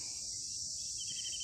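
Crickets chirp in a steady, dense high-pitched drone at a forest campsite in the hills, a continuous insect chorus with no talk.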